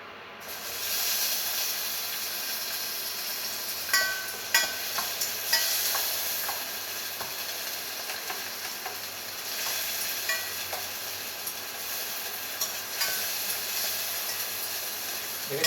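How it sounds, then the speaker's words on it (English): Vegetables sizzle and fry in a hot pan for poha, with a steady hiss throughout and occasional scraping clicks of stirring, close and fairly loud with no talk. "And I am going to add all the vegetables here."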